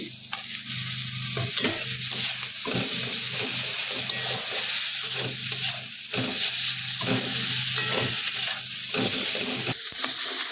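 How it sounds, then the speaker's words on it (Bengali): Spices (chili powder, turmeric, coriander powder, green chili) and chopped tomato fry in a pan for a green cauliflower curry, giving a steady close sizzle broken by repeated scraping stirs, with no talking. "ভালো করে নাড়াচাড়া করে দিব। এবারে দিয়ে দিব টমেটো কুচি।"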